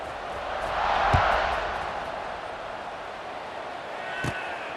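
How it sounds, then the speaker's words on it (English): A stadium crowd in the College Football 26 video game keeps up a steady roar that swells and fades, with two brief thumps, and faint voices may be mixed in. "this crowd is buzzing after that last score"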